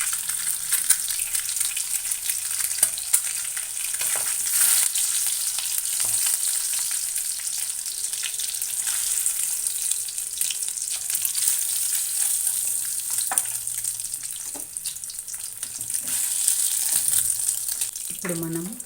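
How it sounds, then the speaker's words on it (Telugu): Boiled eggs frying in hot oil for an egg masala curry, a steady close sizzle that runs the whole time with occasional stirring clinks and scrapes and no talk over it. "చూస్తున్నారు కదా, అంటుకోకుండా చక్కగా వేగుతుంది."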